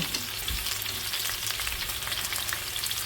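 Onions sizzle steadily in a hot pan right after being tipped in, a dense, even crackle of frying with faint stirring, close and continuous with no talk.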